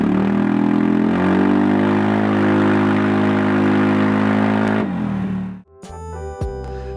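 A single-cylinder 250cc automatic scooter fitted with a racing exhaust revs loudly and steadily near the microphone, then the engine drops off and cuts out, leaving brief clicks and mechanical rattles.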